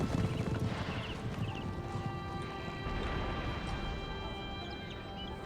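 Cavalry horses in Empire: Total War whinny and neigh over a dense rumble of galloping hooves and battle noise, several short high whinnies standing out above the steady din.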